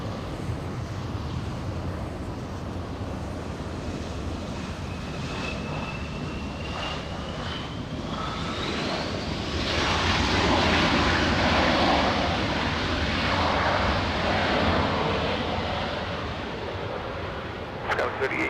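A jet airliner roars down the runway on takeoff at Los Angeles airport, a loud broadband rumble with a rising whine that swells past the listener and slowly fades, with wind buffeting the microphone and faint radio chatter underneath.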